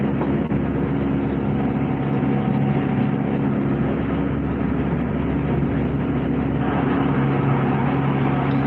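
A loud, steady mechanical drone with a low rumbling hum fills the whole stretch, constant and close, like a noisy air conditioner running.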